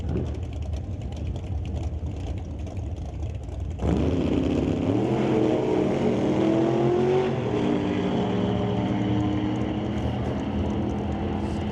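Drag race cars, a Plymouth Duster and a Mustang, launch at Mission Raceway Park's old time drags, with a steady engine roar that jumps louder partway through and holds as the engines rise in pitch.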